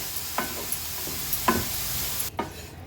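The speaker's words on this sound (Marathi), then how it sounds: "लो फ्लेमवरच आपल्याला हा छान परतून परतून असा क्रिस्पी बनवायचा आहे" Dried baby shrimps roast in a pan over low flame, with a few soft scraping strokes of a spoon spaced apart over a faint steady sizzle, quiet and close.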